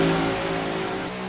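Race cars revving loudly in a racing video game during a league qualifying race, a steady layered engine drone with sustained tonal whine throughout, no talk over it.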